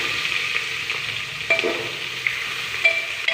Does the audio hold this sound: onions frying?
yes